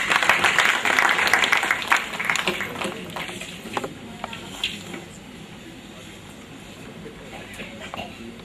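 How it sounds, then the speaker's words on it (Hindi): Audience applause at a stage event, a broad wash of clapping that starts loud and gradually thins and fades, with speech-like sounds over it. "जोरदार तालियां।"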